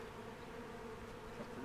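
Honeybees just settled into a new hive box give off a steady, close buzzing hum, soft in level and continuous through the short moment, with no voices.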